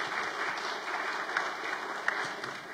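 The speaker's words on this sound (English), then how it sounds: "Let's give them a great clap" A church congregation claps together in sustained, dense applause that holds steady throughout, with a few sharper claps standing out near the middle.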